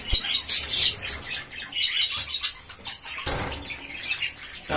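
Small yellow birds flapping and fluttering their wings in a trap after landing on bait, with rapid bursts of wingbeats mixed with squawks and chirps, close and fairly loud throughout.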